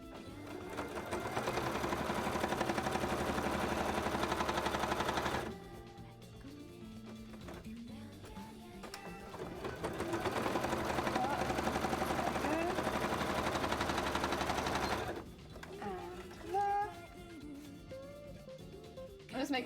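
A sewing machine stitches soft, squishy fabric covers for wings in two long, loud bursts of fast rhythmic needle chatter, each lasting several seconds with a quieter pause between them.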